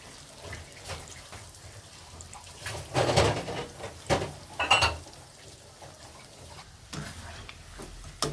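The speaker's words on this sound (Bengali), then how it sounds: "তো একইভাবে আমি পরের বাদ বাকিগুলো ভেজে নিব" Palm fruit fritters (taler bora) deep-frying in oil give a quiet, steady bubbling sizzle, with a few louder clinks and stirring bursts partway through.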